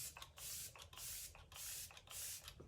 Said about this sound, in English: I should finish a thought before I spray my face with this